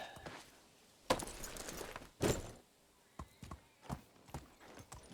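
A donkey walks in the medieval survival game Medieval Dynasty, its hooves clip-clopping in irregular, fairly close steps with a few louder thuds among them, quiet overall.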